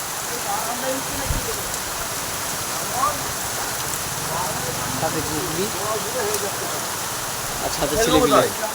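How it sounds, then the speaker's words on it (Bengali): Heavy rain pours down steadily across a village, a dense, loud hiss that never lets up, with voices talking beneath it. "প্রচুর বৃষ্টি, একদম মারাত্মক পরিমাণে বৃষ্টি চলছে"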